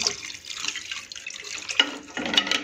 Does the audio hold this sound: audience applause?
no